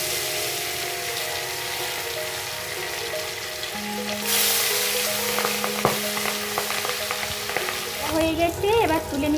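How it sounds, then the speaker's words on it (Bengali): Fish coated with salt, turmeric and a little oil fry in hot oil, a steady close sizzle that swells louder partway through, with a steady hum under it and faint clinks toward the end. "তো এবার মাছগুলো ভেজে নিব।"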